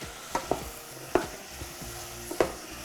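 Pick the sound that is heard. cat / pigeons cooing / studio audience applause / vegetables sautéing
vegetables sautéing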